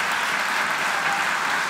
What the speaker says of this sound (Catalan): Us demano un aplaudiment per aquestes dones que ho han fet possible també.